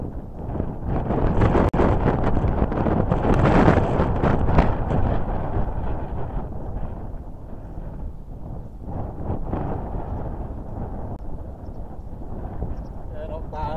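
Strong wind buffets the microphone on a golf course, a continuous loud roaring rumble that swells and eases throughout with no clear pauses.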